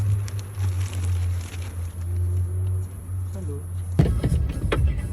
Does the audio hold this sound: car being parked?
yes